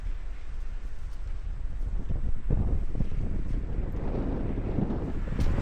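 Strong wind buffets the microphone in a constant low roar, with gusts swelling and fading over the few seconds.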